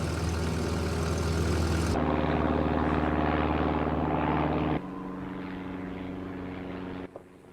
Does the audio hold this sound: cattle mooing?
no